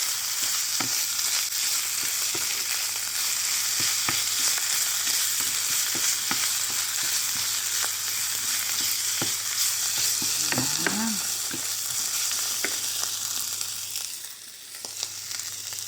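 A bacon sauce with tomato paste fries in a pan, giving a steady close sizzling hiss, with frequent light scrapes and taps as it is stirred throughout.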